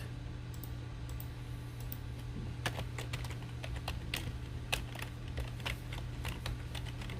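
Steady bursts of keystrokes on a computer keyboard tap away close by over a low constant hum, irregular clicks continuing throughout with no talk.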